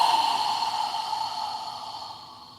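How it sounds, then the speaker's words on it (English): A slow breath drawn and released during a yoga breathing exercise, a soft airy exhale that fades gradually over a few seconds, heard alone without talk, with a faint steady tone beneath. "We're going to inhale through our nose and exhale through our mouth."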